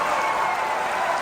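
An audience at a film festival applauds an Indian film, a dense, steady wash of many hands clapping at a distance, sustained without breaks.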